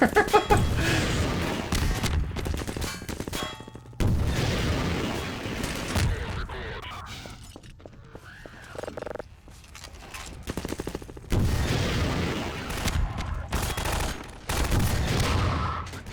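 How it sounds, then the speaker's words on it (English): Rocket launcher blasts and explosions in Half-Life 2 boom and crackle in repeated loud volleys over about sixteen seconds, with brief lulls between bursts. "I'm having too much fun with this rocket launcher."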